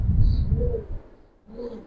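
Giribaz pigeons coo in a loft, a couple of low, rounded calls close by, one early and another near the end, with a brief gap of quiet between them.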